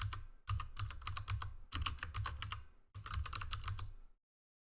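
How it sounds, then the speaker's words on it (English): Close, quiet typing on a computer keyboard as a short label is entered: three quick bursts of rapid key clicks separated by brief pauses, alone and ending in silence. "And I'm going to type a quick label in here."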